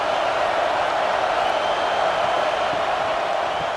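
Stadium crowd roar from a simulated Northwestern vs Nebraska college football video game: a steady, dense wash of massed cheering that holds at an even level throughout, with no distinct voices standing out.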